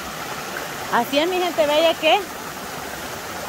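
Small creek running a bit muddy after a morning of rain, a steady rushing flow under someone speaking briefly in Spanish.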